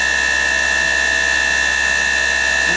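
Live tools on a KSI SQC-38 CNC Swiss lathe spin at 4,000 RPM, giving a loud, steady high-pitched whine with constant tones and no change or speech through the short stretch.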